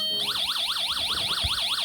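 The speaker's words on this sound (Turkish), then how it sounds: "S3 butonuna bastığımızda itfaiye sireni sesi çıkarmaktadır." A loud electronic siren from a UM3561 siren-generator circuit warbles rapidly up and down in a steady cycle after a brief buzzy start, a synthesized fire engine wail.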